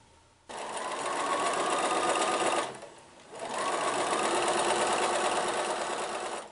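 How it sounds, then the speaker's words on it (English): Sewing machine stitching quilt triangle units together, a steady continuous whir running for about two seconds, a brief pause, then resuming at the same close, even pace. "So I'm going to sew all of these together, and then we're going to sew that unit to our larger triangle."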